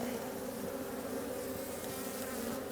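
Agitated honeybees swarm loudly around an open hive during an early-season split, a dense, continuous, close buzzing drone with no voices.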